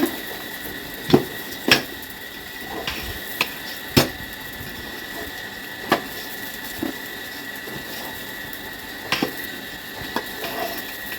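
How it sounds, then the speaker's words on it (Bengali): Lentils stirred in a cooking pot for khichuri, giving scattered sharp clinks and knocks of a spoon against the pot at irregular intervals over a steady low hum, with no voices. "ডালগুলি দিয়ে দিলাম। দিয়ে ভালোভাবে নেড়ে চেড়ে"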